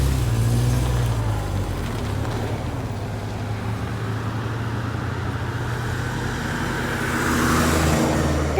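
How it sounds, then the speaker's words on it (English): A car passes on a road in Armenia, its low engine rumble and tyre noise swelling near the start, easing off in the middle, then building again toward the end, with no speech. "Okay, there's another car."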